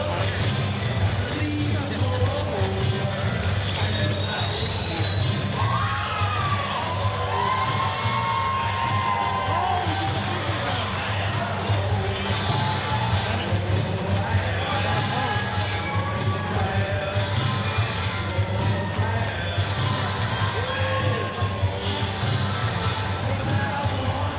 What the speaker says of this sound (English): Yeah, crowd showing their appreciation.